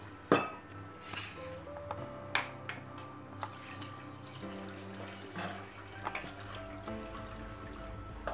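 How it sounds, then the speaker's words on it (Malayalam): Boiled cauliflower and hot water are poured from a pot into a strainer for gobi pakora, giving splashing water and scattered metallic clinks and knocks of cookware, close and fairly quiet. "ഇനി നമുക്കിത് ഈ അരിപ്പയ്ക്കകത്തേക്ക് ഒഴിക്കാം."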